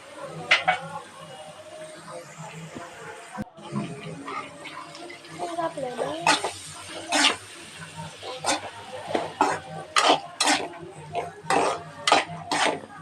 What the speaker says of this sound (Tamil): இந்த பச்சை வாடை போன உடனே தக்காளி, நம்ம நறுக்கி வச்சுருக்க தக்காளி வந்து அதில் போட்டு கிளற விட்டுறணும்